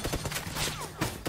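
Gunfire during a fight in the BGMI battle royale game, a quick string of sharp shots rattling off in irregular bursts at mid distance, fairly quiet.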